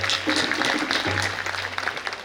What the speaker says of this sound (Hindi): उनके लिए भी एक बार जोर से ताली